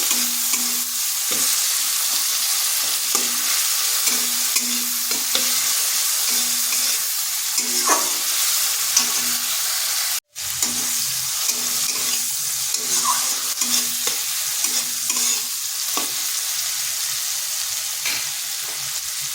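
Onion and tomato with a pinch of salt frying in a pan for a fish curry, stirred steadily with a spatula; a continuous close sizzle broken by regular scraping strokes, no voices.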